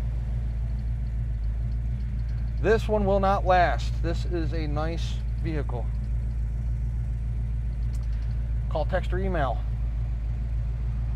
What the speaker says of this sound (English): Here we are at idle.